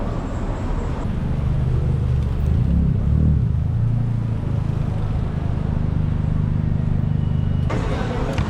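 Steady road traffic rumbling through Kuala Lumpur, a continuous low drone of passing cars with a busier, brighter roar at the start and end.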